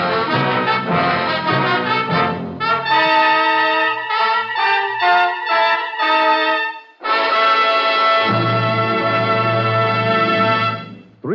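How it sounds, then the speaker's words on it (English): A sequence of three bright, ringing NBC radio network chime tones played in clear succession, loud and close, with sustained resonant notes and no talking. "Three chimes mean good times on NBC."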